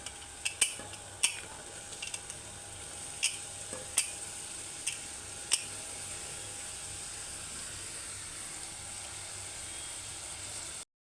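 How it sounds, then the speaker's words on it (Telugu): Chopped ridge gourd hitting a hot pan with frying onions, giving a steady sizzle with a few clinks of a spoon stirring against the metal. "ఇప్పుడు ఇందులో కట్ చేసి పెట్టుకున్న బీరకాయలు వేసుకుందాం"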